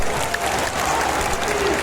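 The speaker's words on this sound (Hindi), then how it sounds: "आदरणीय राहुल गांधी जी का जोरदार तालियों से स्वागत करें।" A dense crowd at a political rally for Rahul Gandhi claps and cheers in a loud, continuous wash of applause that fills the whole stretch with no break.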